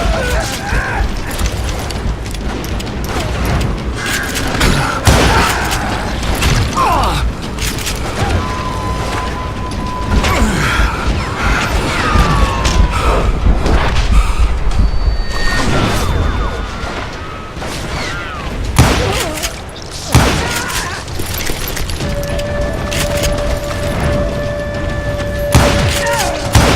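Gunfire and booming impacts in the Western shooter Call of Juarez Gunslinger, a dense run of loud thuds and crashes with mechanical clatter, played under a steady narrating voice.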